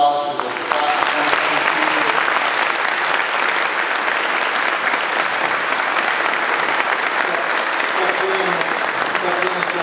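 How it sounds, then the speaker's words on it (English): A hall of fame dinner crowd for NAU Athletics gives the class of 2022 a round of applause, a loud and dense wash of clapping that holds steady for about ten seconds with no talk over it. "Can we give a round of applause for the class of"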